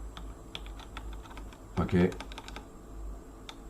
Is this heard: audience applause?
no